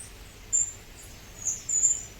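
Small birds bathing on a beach in the Seychelles, giving a few high, thin chirps over quiet background noise.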